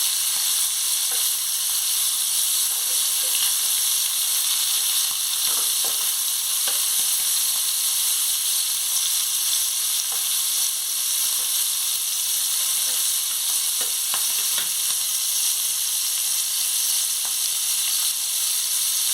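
Prawns frying in a pan with a little oil, a steady bright sizzle and hiss running throughout with occasional soft crackles and stirring sounds, close and continuous with no talking.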